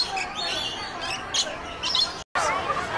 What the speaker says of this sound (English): There's a pretty bird.